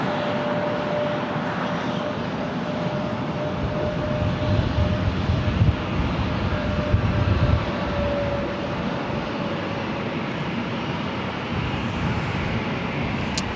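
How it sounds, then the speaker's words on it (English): A Delta Airlines Airbus A321 arriving at LAX from Minneapolis, a continuous broad jet roar with a faint steady whine, swelling slightly in the middle as it passes and staying steady throughout without speech. "The next arrival here on the north side is Delta Airlines Flight 2119 coming in from Minneapolis"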